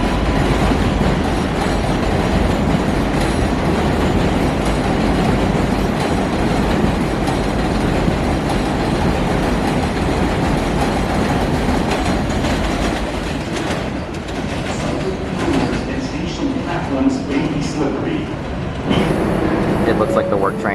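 Loud, steady rumble of a New York subway work train at 74th Street–Broadway station, with rolling clatter and some wheel screech throughout and a brief dip partway. Voices are faintly audible under the rail noise.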